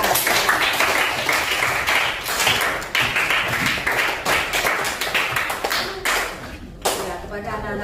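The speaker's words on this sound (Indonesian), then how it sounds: "Beri tepuk tangan untuk kelompok 3" Students in an Indonesian classroom clap for a group that has just presented, a dense burst of hand claps filling the room that thins out toward the end, with some talk mixed in.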